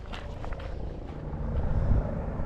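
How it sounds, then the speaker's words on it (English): Four helicopters fly overhead during kayaking in the UK, their rotor thrum a steady, fairly loud drone that swells slightly toward the end, with no talking. "there's 4 helicopters."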